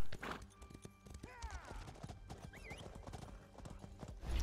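Hooves clop rapidly in a galloping rhythm in The Elder Scrolls Online, joined by a horse's whinny and faint background game noises.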